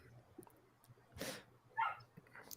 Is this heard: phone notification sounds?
no